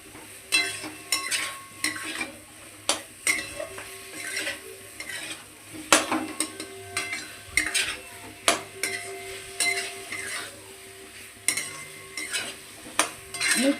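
Boiled potatoes for aloo dum being fried and stirred in a home kitchen, a low sizzle under repeated scraping and clinking of a spatula against the pan in an uneven rhythm, close and moderately loud.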